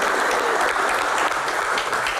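Audience applause at an Indonesian awards-style talk show, a dense, steady wash of clapping held at an even level for the full stretch with no voices above it.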